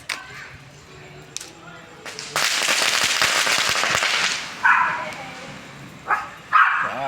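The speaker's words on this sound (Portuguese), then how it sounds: "Soltando mais uma bombinha aqui pra animar aí" A small firecracker bursts at a Santo Antônio bonfire, a sharp loud blast followed by a few seconds of crackling noise, with voices and scattered pops and yelps around it.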